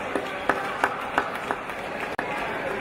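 A gathering in Ghana applauds a donor at a book launch fundraiser, with a steady wash of clapping running through and a few sharper rhythmic claps standing out, fairly distant and moderately loud.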